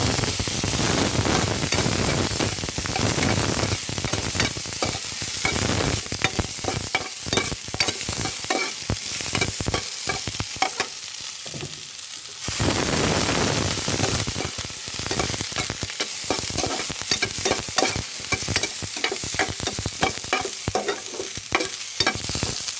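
Eggplant for pinakbet stir-fries in a pot, giving a loud, continuous sizzle with scraping and stirring throughout. The frying briefly eases partway through before picking up again, and no voices are heard.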